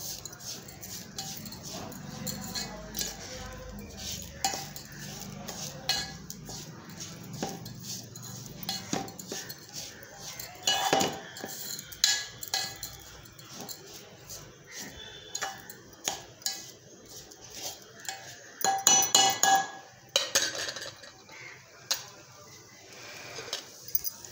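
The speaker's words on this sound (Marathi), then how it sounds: "एकजीव करून घेऊत आता आपण ह्या खोबऱ्यामध्ये साखर" Sugar being stirred into fresh grated coconut in a pan over low heat: irregular scraping and light metallic clinks of a spoon against the pan, fairly quiet and close, with scattered sharper knocks.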